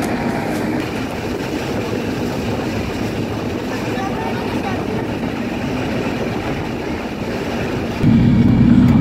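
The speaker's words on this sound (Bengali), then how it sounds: "আসুন এই ট্রেন ভ্রমণ উপভোগ করি।" A passenger train runs on the Dhaka–Tongi line, a continuous rumbling clatter of wheels on rails heard from inside the carriage, steady throughout and rising louder near the end.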